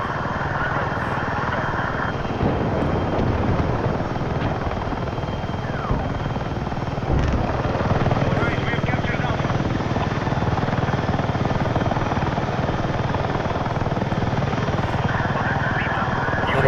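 A helicopter flies in the video game Battlefield 6, its rotor making a steady, loud drone that continues unbroken for the whole stretch. Light in-game noises and occasional voices sit beneath the rotor.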